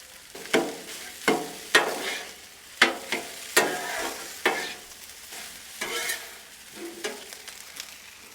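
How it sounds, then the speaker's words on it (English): Pork frying on a Blackstone griddle after a splash of sesame oil, with steady sizzling broken by repeated sharp spatula scrapes and stirring clacks, close and moderately loud, no talking. "We're going to start cooking our pork."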